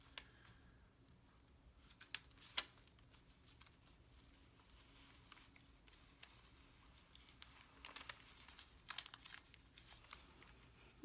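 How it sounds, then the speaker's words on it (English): Freezer paper peeled back from a fabric quilt block, soft crinkling and tearing rustles with a few sharper crackles, faint and close with no talking. "pulling back the freezer paper"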